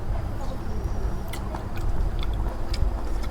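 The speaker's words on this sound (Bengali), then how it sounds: "আজকে মজা করে ভাত খাইতেছি" Chewing and biting sounds come from someone eating rice with beef and taro stolon curry, close up, with soft irregular crunches and smacks over a steady low background rumble.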